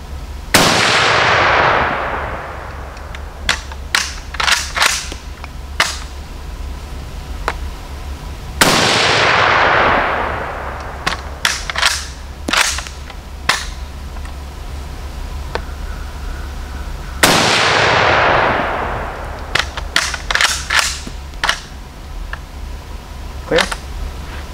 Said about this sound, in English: Definitely feel the shockwave with each shot.